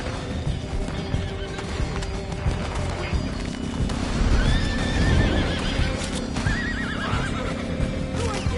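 Horses whinny several times over a steady rumble of galloping hooves and clattering, with a voice briefly talking underneath; video game audio, busy and fairly loud.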